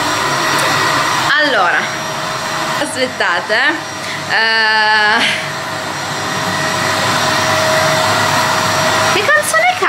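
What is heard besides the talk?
vacuum cleaner running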